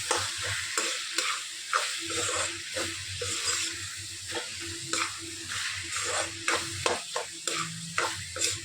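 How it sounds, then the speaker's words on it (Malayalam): Biryani masala with chili sizzles and fries in a pan while a spoon stirs it, scraping in steady repeated strokes over a constant hiss; no voices. "മുളകിടുമ്പോൾ നന്നായിട്ട് ഇളക്കി കൊടുക്കുക."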